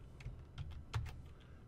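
Several quiet keystrokes tap on a computer keyboard, a short irregular run of soft clicks close by with no talking.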